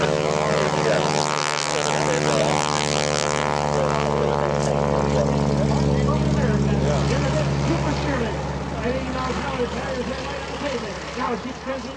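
A propeller airplane flying an aerobatic routine at EAA AirVenture, its engine droning loud and steady throughout with a rising and falling pitch as it spins, while an announcer's voice carries over it.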